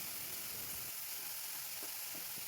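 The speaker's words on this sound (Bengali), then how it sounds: "সামান্য একটু জল দিয়ে দেব যাতে সবজিগুলো মশলার সাথে ভাজা ভাজা হয়ে যায়।" Vegetables frying with spices and a splash of water in a pan, with a steady, faint hiss of sizzling and a few soft stirring clicks, no voices.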